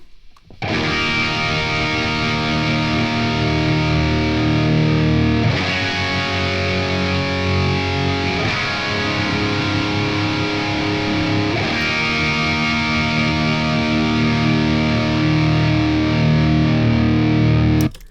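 Distorted electric guitar chords played through an amp simulator ring out loud and sustained, with a few sharp restrikes and no talking.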